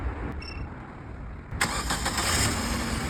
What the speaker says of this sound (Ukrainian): Автомобіль запустився.